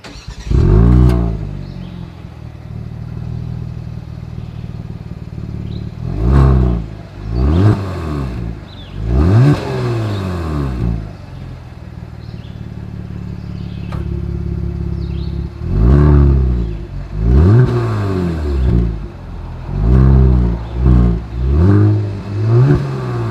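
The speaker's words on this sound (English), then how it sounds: "here is that exhaust clip" A 2022 Genesis G70's engine revs hard again and again, loud and close, each throttle blip rising and falling with deep exhaust rumble between bursts.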